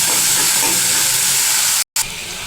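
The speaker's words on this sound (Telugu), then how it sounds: "ఆయిల్లో ఫ్రై అయిపోతాయి" Chopped curry leaves frying in hot oil for tomato rice, a steady bright sizzle and crackle that fills the clip, cut by a brief moment of silence near the end before the frying resumes more softly.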